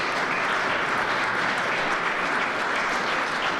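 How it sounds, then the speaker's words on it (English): Steady, dense applause from a ceremony audience in an indoor hall, continuous and evenly loud throughout with no break. "And you can clap for that, because that is a big accomplishment."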